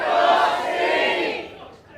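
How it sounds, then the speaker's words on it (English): Live conference audience at a motivational talk shouting a rallying chant together, a loud unified crowd roar of many voices that holds for over a second and then fades out. "you're all going to be shouting, "Come on, Steve.""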